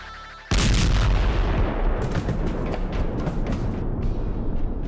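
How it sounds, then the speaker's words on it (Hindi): A sudden loud blast erupts after a near-silent start, followed by a long rumbling, crackling roar with several sharp secondary bangs and debris-like bursts, close and dominant. "और धमाका।"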